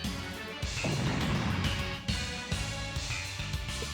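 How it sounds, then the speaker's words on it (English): Explosion in the mecha strategy game Super Robot Wars OG Gaiden, a heavy booming blast that rumbles for about a second and a half, followed by a few sharper impacts, with game music continuing underneath. "A tremor. It's an explosion."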